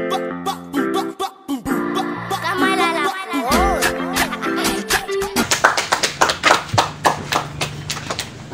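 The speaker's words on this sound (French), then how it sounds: "Applaudissez-vous. Applaudissez-vous." After a stretch of voices with musical tones, audience clapping breaks out as crisp individual claps that quickly build into a quick, uneven run of hand claps, close and fairly loud.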